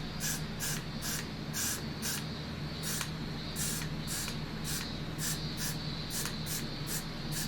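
Hairspray hissing in a rapid series of short bursts onto a cosplay wig being styled for a Harley costume, close and steady with brief pauses between sprays.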